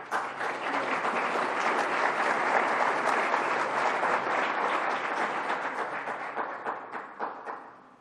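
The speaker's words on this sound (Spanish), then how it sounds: "Démosle la bienvenida al cardenal con un fuerte aplauso." Applause from a large audience at a Catholic social doctrine congress greets a cardinal, dense and steady for several seconds before thinning toward the end.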